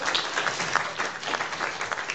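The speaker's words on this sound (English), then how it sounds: "Aren't you clapping?" An audience at a Chongqing dialect crosstalk show applauding: a dense, steady wash of many hands clapping throughout, moderately loud, with no talk over it.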